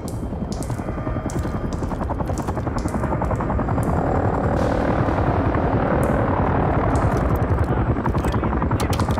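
Helicopters approach in the Call of Duty Modern Warfare III video game, a loud, steady rotor thump with rapid beating and a continuous roar, punctuated by sharp clicks and bursts of combat noise.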